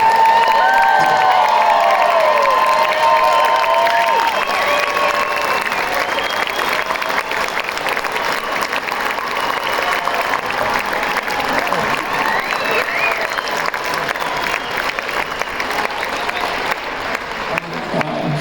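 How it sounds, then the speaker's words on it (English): A large crowd cheers and applauds loudly and steadily, with whoops and shouts riding over continuous clapping throughout. "Make some noise for the funniest man, Mr. Tim Hawkins!"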